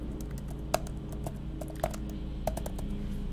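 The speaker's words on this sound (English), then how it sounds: "So I can type text here." Text typed on a computer keyboard, a close, steady run of small key clicks with a few louder strokes, over a low room hum and no talking.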